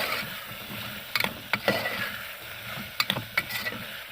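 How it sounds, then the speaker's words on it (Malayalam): A spoon scrapes and clacks against a pan as cut potatoes are stirred for a Kerala-style potato curry, with irregular close knocks over a faint background hiss and no voices. "ഇനി നല്ലതുപോലെ ഒന്ന് ഇളക്കി കൊടുക്കാം"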